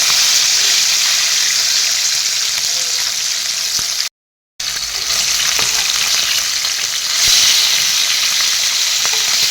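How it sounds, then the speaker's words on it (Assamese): Pieces of fish sizzle steadily in hot oil in a pan, a loud continuous frying hiss with faint stirring clicks and one brief dropout midway. "মাছখিনি অলপ ফ্ৰাই হ'বলৈ দিম।"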